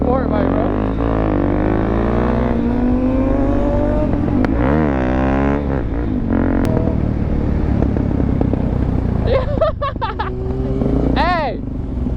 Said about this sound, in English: Look at Kirsten on a sport bike, bro.